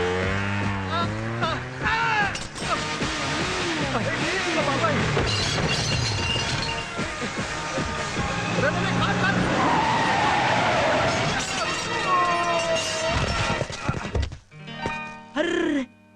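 A bicycle with failed brakes crashes into a car in a comic film scene: skidding, a crash and a shattering impact over a busy mix of effects and music, with voices shouting throughout and scattered bumps at the end.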